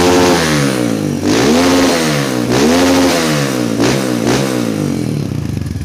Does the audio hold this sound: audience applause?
no